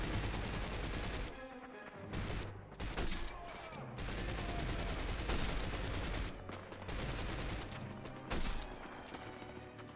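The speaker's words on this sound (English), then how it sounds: "Shoot this guy in the head a few times. Sniper rifle seems pretty buff" Sniper rifle shots in the 2005 video game 007: From Russia With Love, heard among dense, loud game gunfire with rapid bursts and booming impacts continuing throughout.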